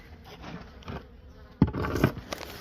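Honey bees buzz around a defensive hive being treated with oxalic acid vapor, a steady close drone that swells louder in bursts partway through.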